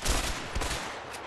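Gunfire in the video game A Way Out, a short spell of several rapid, fairly muffled shots in quick succession, no talking.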